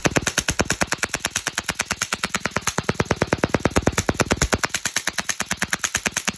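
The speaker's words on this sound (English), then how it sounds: "here's the loudest airsoft gun I own. It's HPA tapped to a paintball tank, and it's gas blowback" A gas blowback airsoft gun, HPA-tapped to a paintball tank, fires on full auto: a loud, close, rapid and steady stream of sharp cracks that continues for over six seconds without pause.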